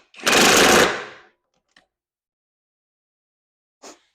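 An impact wrench rattles in one loud, dense burst of about a second while tightening a lug nut, followed by a tiny click and a short faint whir near the end, with silence between.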